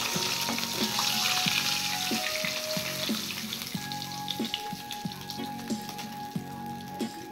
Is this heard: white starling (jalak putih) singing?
no